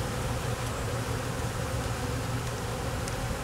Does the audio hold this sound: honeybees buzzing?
yes